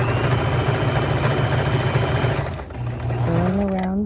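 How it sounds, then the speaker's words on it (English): A sewing machine stitches a waistband seam with a fast, continuous mechanical whir that runs steadily, loud and near, then slows briefly before starting again. "So I'm stitching at 5/8 inch seam allowance"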